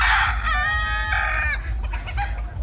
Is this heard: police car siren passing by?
no